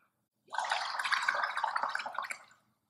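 A swimmer blows hard into water, making a sustained bubbling, gurgling burst that starts abruptly after a moment of silence and fades out near the end.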